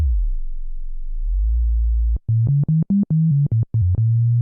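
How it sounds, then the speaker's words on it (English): A pure, smooth sine tone from a Moog Sub Phatty synthesizer's self-oscillating filter plays a short melody: a low sustained pitch, then a series of quick stepped notes, clean and electronic with no other sounds. "we now have a sine wave we can play"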